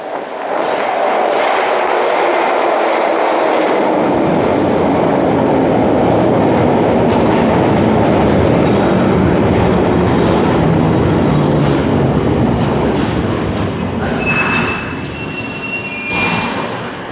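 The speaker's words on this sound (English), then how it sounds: "here's a 1972 train arriving into Edgware Road Station" A 1972-stock London Underground train pulls into Edgware Road Station, a loud, continuous roar with squealing wheels and rail clatter building and holding throughout, heard from the platform.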